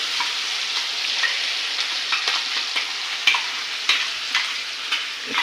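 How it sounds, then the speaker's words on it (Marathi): Ground masala paste for a fish curry frying in hot oil, a steady close broadband sizzle with occasional sharper spits and crackles throughout, no voices. "तेल आता गरम झालंय आता आपण ते मग अशी वाटण काढलं होतं ते त्यात टाकायचं आहे"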